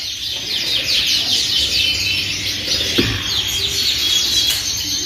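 Several young canaries from different crossbreedings chirp and trill continuously at close range, dense bright overlapping calls filling the whole span with no pauses.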